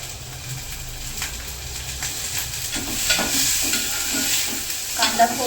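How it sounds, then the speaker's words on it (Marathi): Onion sizzles and spits in hot oil in a cooking pot, a continuous frying hiss with occasional stirring scrapes and crackles, close and steady with no talking. "याच्यामध्ये ना मी एका टोपात थोडंसं तेल टाकलंय पहिले आणि त्याच्यामध्ये कांदा टाकते"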